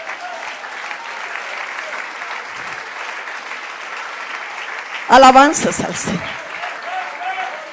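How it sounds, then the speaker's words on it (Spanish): Congregation applauding in a church during a sermon, a steady wash of clapping that runs throughout, then a voice speaks loudly over it near the end. "Dale un aplauso a la gloria."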